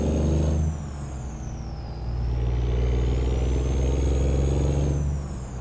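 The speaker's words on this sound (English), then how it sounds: "Jump outside, listen to the traffic." Trucks pass on a road in American Truck Simulator, a loud engine drone with a hissing air-brake release, then a long whining pass that swells close and fades away.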